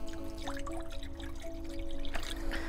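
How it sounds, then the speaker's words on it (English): Water poured into a bowl for a flower essence, a close, steady trickling stream with small splashes that runs throughout the short stretch, with no voices. "I am going to pour the water in"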